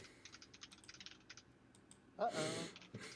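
Rapid clicking of computer keyboard typing in bursts, fairly close, followed by a louder rustling burst near the end.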